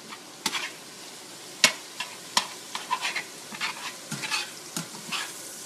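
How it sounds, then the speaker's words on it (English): Zucchini noodles and garlic sauté in a pan over medium heat, a continuous close sizzle broken by several sharp clicks as they are stirred. "We're sauteing our zoodles, we're sauteing our garlic."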